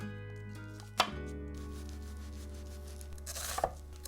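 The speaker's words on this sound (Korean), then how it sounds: "이제 양파 자를까요?" An onion is chopped with a knife on a cutting board for tomato salsa, with two sharp, close knife strikes about two and a half seconds apart over a quiet background hum.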